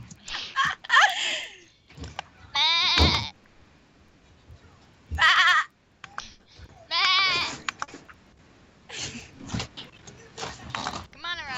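A human voice imitates a sheep, giving several wavering, bleat-like calls in short bursts, with laughter and casual talk from others in between.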